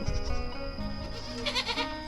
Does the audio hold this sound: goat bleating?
yes